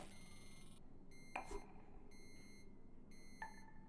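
Electronic beeps in a wasteland golf video game sound in a few short repeated bursts, fairly quiet against a steady low background of game ambience.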